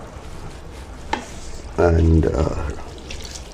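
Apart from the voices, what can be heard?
pasta cooking water poured into chicken spaghetti pan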